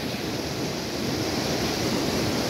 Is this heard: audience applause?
no